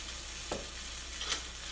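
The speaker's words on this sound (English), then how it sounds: "I hear a little sizzly." Semolina buttermilk pancake batter on a hot pan gives a soft, steady sizzle with a few light taps and scrapes, close and fairly quiet.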